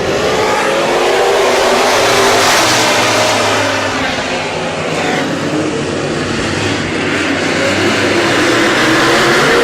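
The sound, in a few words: modified race cars accelerating at race start on speedway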